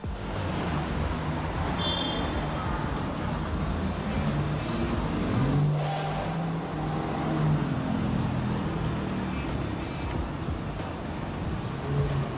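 A Lamborghini sports car drives along a city road, its engine and tyre noise blending into a steady, loud wash of surrounding traffic with no clear pauses.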